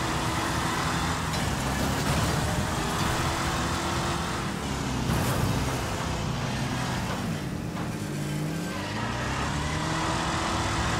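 Engines roar and strain in the Wreckfest demolition derby game as cars push and crash into walls and each other, continuous loud vehicle noise with shifting engine pitch and no speech.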